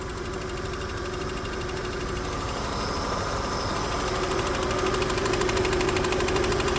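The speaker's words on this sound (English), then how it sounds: "Actually hear a bit of a ticking noise, I'm not sure. Sounds like those are the lifters." A Volvo 960 with a 3.0 engine idles steadily at close range, its low running hum carrying a faint, fast ticking from the valve lifters throughout.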